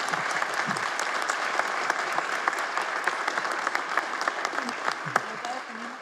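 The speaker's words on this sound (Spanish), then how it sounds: "Un aplauso para la maestra, por favor." Steady applause from a university audience at a panel discussion, dense clapping that holds at an even level throughout, with a few sharper claps standing out.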